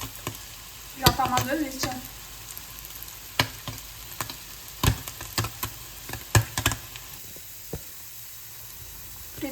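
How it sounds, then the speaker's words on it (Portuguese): Cheese fries in a pan with a busy close sizzle, broken by sharp knocks and scrapes of a utensil stirring. A brief voice speaks partway through. "Fritei o queijo"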